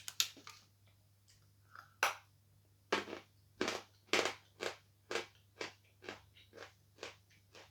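Sawn chalk bitten and chewed up close, a loud first snap followed by a steady run of about a dozen dry, crunchy chews at an even rhythm over a faint low hum.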